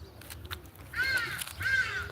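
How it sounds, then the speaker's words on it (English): A pied crow caws twice, each call a harsh, drawn-out rasp about half a second apart from the next, fairly close and clear against a quiet outdoor village morning. "That's a pied crow."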